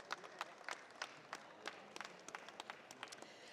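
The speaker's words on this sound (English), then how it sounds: "please give Gleeds a massive round of applause" Scattered applause from a modest audience at a construction industry launch event in London, with sparse, uneven claps rising and falling over a light crowd murmur at moderate distance.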